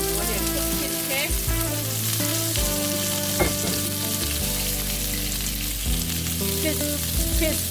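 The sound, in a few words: fish cake frying with ginger and garlic in wok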